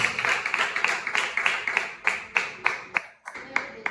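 A church congregation claps in a steady, even rhythm, a dense run of sharp, close claps that slows and thins slightly toward the end, with no speech over it.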